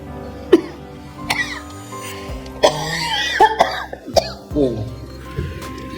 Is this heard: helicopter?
no